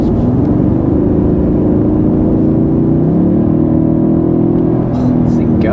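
A 2022 Toyota Tundra in Sport Plus mode pulls hard from inside the cab, the engine note climbing steadily and then shifting, loud and continuous throughout.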